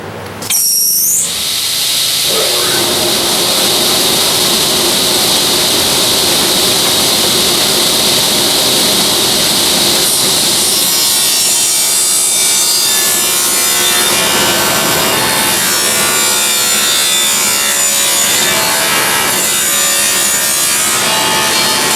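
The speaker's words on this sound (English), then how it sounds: "So let's start the saw up and run this." A power saw cuts a rabbet into a wooden entry door frame, spinning up and then grinding continuously through the wood, loud and close with no talking.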